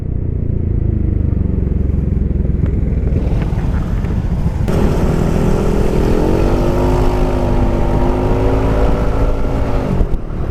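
A Yamaha NMax scooter with a 166cc bore-up engine and a Satria exhaust idles with a deep, loud rumble close by, then revs up partway through and holds a raised, steady engine note until the end.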